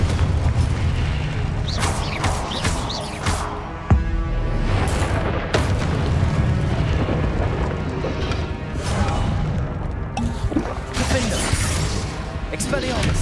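Confringo explosive spell blasts in Hogwarts Legacy combat, with repeated booming impacts and crashes over a busy battle din, while a voice calls out spells.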